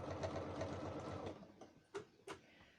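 A sewing machine runs steadily while over-stitching a few stitches on a fabric stocking, a fast even whir that stops partway, followed by two sharp mechanical clacks up close.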